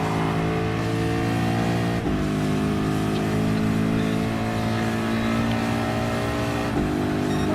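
Ford GT LM Spec II Gr.3 race car in Gran Turismo Sport, its engine droning steadily at high revs with a rich harmonic tone, dipping briefly twice as it shifts gears before pulling hard again.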